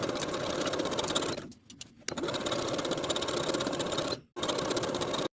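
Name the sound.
sewing machine sewing a blind hem stitch on pant legs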